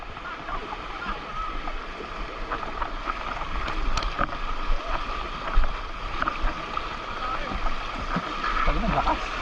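Floodwater rushes down a Quezon City street after Typhoon Ulysses with a steady, close roar and churning splashes, while someone speaks over the flow.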